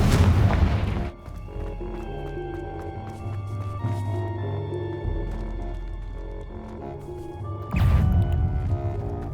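A fire spell explosion in a Harry Potter video game, with a loud boom at the start, a sustained rumbling roar with tonal game music throughout, and a second strong burst near the end.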